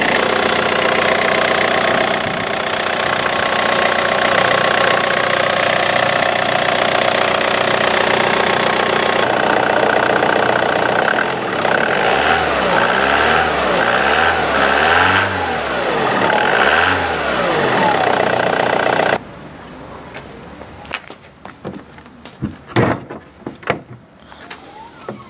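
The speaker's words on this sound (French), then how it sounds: "c'est un moteur 2 litres DTI, 100 chevaux" An Opel Vectra's 2.0-litre 100-horsepower DTI diesel engine, Isuzu-derived, idles steadily and loudly for about twenty seconds with a throbbing mid-range drone, then cuts off, leaving quieter scattered clanks and knocks.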